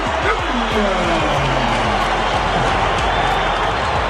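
A boxing arena crowd roars for undefeated super middleweight champion Roy Jones Jr., a dense, steady wall of cheering and applause with scattered shouts rising above the din.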